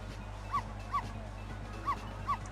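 Dog barking at a television in the video game Ghost Trick, four short, clipped barks in two pairs over a low steady hum, with no talk.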